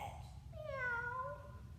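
A voice imitates a cat's meow during a cat pose in a parent-and-child yoga session, giving one drawn-out, gliding meow that is soft and faint over a low background hum.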